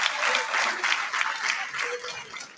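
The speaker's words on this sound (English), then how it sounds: "give a round of applause for all" Steady audience applause at a fundraising gala, many hands clapping together in a dense, sustained patter that holds for a few seconds.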